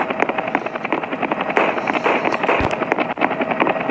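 Steady helicopter rotor drone in the Roblox game Redwood Prison, with choppy broadband noise and rapid chopping texture, fairly loud and continuous, with no one talking.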